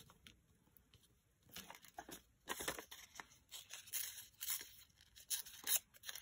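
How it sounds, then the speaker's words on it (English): Paper is torn by hand to make a strip for a junk journal envelope: quiet at first, then a series of close, crisp ripping and crinkling bursts with brief handling pauses between them. "Maybe I can just tear this and add a strip on here."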